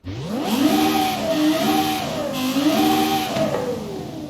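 A high-pitched Lexus LFA 4.8-liter V10 engine in Forza Horizon 5 revs up sharply, then rises and falls in repeated throttle blips, loud and continuous with a shrill whine.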